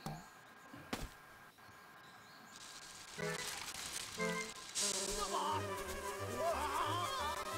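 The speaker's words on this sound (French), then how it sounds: "Faut pas attaquer une ruche alors qu'il y avait des abeilles à l'intérieur" Buzzing insect swarm from bees after a beehive is attacked in the Zelda Link's Awakening video game, a steady drone layered with chiptune-style game music and effects that grow louder and busier midway.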